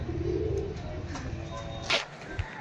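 A male pigeon coos softly in a low, throaty murmur amid faint background noise, with a brief sharper sound near the end.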